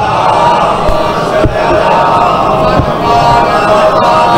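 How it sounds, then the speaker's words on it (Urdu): A large gathering at a majlis in an imambargah recites salawat aloud in unison, a loud, dense roar of many voices chanting together, close and sustained. "اس دی تعمیل میں مجلس شروع کرنے لگا باواز بلند صلوات پڑھو"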